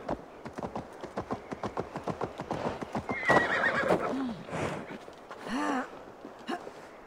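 Rhythmic hoofbeats clop steadily, then a horse neighs twice in a drawn-out whinny, with game-like ambience behind, from the video game Assassin's Creed Valhalla.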